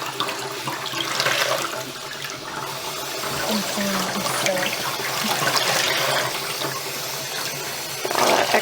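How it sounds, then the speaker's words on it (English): Water running into a sink while dyed yarn is rinsed, a steady splashing flow close by with some faint background noise. "And rinse it a bit."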